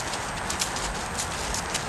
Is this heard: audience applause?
no